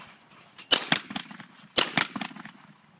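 Two shotgun blasts fired at skeet clay targets on a range, sharp loud reports about a second apart, each followed by a short rolling echo.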